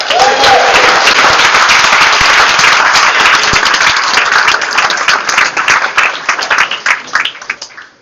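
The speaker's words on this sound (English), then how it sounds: "So round of applause for this team" Applause from a banquet audience honoring a state champion 5A high school football team, dense steady clapping that holds strong for several seconds and then thins and fades out, with a few voices mixed in.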